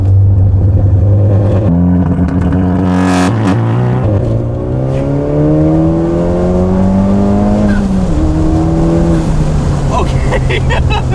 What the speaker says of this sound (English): to activate rolling anti-lag, we're gonna be in 3rd gear. Okay, 3rd gear, hold the cancel button and just floor it